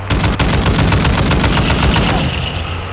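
Automatic gunfire in the video game DMZ hammers out in a fast, evenly spaced rhythm of loud shots, close and sustained for over two seconds before cutting off.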